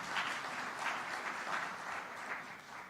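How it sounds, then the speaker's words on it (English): A summit audience in Kenya applauds the President in a continuous, fairly faint wash of clapping from many hands at a distance. "Please clap for the President for being with us."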